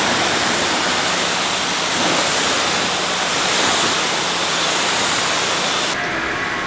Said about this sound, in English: So I'm gonna go ahead and rinse off the Jeep.